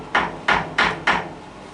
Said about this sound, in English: I think that hammer might be slightly overkill for this job, but it's near to hand.